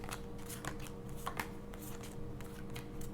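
Tarot cards being shuffled in a steady run of soft riffling and sliding bursts, close by, with no talking.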